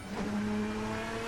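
A GT Adonis D9 V12 race car engine in Assetto Corsa gives a smooth, steady high-pitched drone with a slight rise, close and continuous, with no speech.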